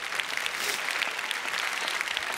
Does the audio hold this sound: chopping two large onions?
no